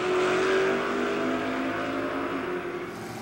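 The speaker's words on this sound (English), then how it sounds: "That's Bob Bernard and Jolly Dolly racing a grump." Gasser drag race cars roar at Aquasco in a loud, sustained engine drone with a steady pitch that eases slightly toward the end, with no voices.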